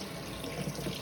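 A tap runs in a steady, rushing stream while hands are washed at a sink after cracking an egg for cinnamon roll dough, close and continuous with no voices.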